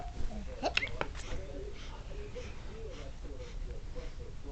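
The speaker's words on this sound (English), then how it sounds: "Baby's first hiccups." A baby's hiccups sound as a few short, sharp catches close by, clustered early and then quieter, with an adult voice talking softly through the clip.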